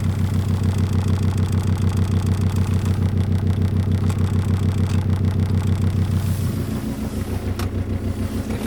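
A 1998 Volvo V70 TDI diesel engine idles, heard from inside the cabin with a fault in its engine mounts: a steady low, pulsing throb with strong resonant vibration, and the rhythm shifts slightly toward the end.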